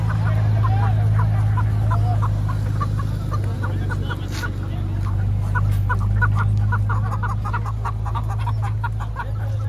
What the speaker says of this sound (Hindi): ये यहाँ पे बेच रहे हैं देसी मुर्गे।